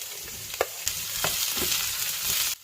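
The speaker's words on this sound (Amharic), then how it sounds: "ድንቹ ቀላ ብሎ እስከሚበስል በመሃል እያገላበጠን እናበስላለን" Potatoes fry loudly in a hot pan, a bright, constant sizzle broken by several sharp scraping knocks as they are turned over, close up and without voices.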